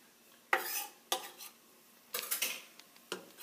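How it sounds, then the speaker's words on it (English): Marinara sauce ingredients cooking in a hot pan at home, heard as a quiet sizzle broken by several sharp bursts of stirring and scraping against the pan. "Kind of hear it sizzling a bit now."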